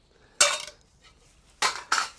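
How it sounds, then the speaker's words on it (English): Cheap, flimsy camping knife-and-fork sets being handled for motocamping, giving three sharp metallic clatters, one near the start and two close together near the end, loud and close with quiet between. "inside you get a knife, two knife and fork sets"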